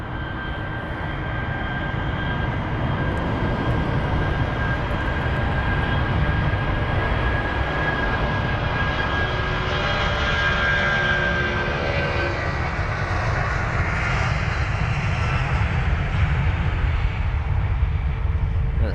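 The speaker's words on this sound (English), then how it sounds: "The 757 is such a powerful aircraft. You can just hear the engines whining, already rotating as well." An Icelandair Boeing 757 rolls for takeoff at London Heathrow, its jet engines giving a steady, powerful roar with a high whine riding on top. The roar swells gradually over nearly twenty seconds, with no talking.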